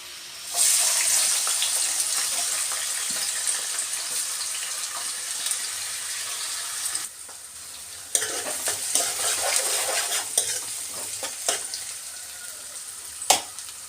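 Thinly sliced onions and green chilies sizzle and fry in hot oil while being stirred in a pan, a steady close hiss with scraping stir strokes and a brief dip partway through.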